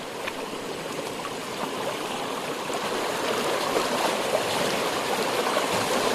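A muddy stream being crossed on a hike through forest, giving a steady close rush of flowing water that grows slightly louder over time, with no voices.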